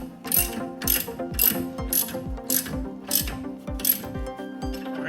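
A hand ratchet on a torque bar tightens a suspension strut nut, giving steady repeated clicking bursts, about six or seven evenly spaced pulls close to the mic with metallic ringing between strokes.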